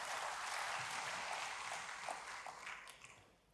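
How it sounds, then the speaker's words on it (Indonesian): A church congregation applauds during a sermon, a faint, steady patter of many hands that fades away toward the end. "Yang mengerti berikan tepuk tangan bagi Tuhan."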